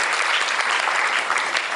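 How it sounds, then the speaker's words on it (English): An audience gives a round of applause for donors at a Diwali gathering, a dense, steady burst of clapping from many hands with no pauses. "I would like to have a big round of applause for some of the donors who have donated for Gondal project."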